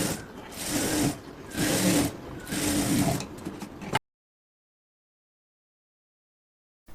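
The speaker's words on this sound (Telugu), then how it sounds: "టూ పీసెస్ ఇదే విధంగా స్టిచ్ అనేది వేసుకోవాలి చుట్టూ కూడా" A sewing machine stitching blouse fabric pieces, running in three bursts of rapid mechanical chatter with brief pauses between them, close and fairly loud, then cutting to silence partway through.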